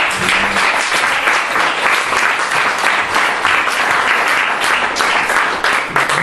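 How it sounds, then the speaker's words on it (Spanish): A church congregation applauds during a sermon, a loud sustained roar of many hands clapping evenly throughout, with no voices over it. "Denle un aplauso."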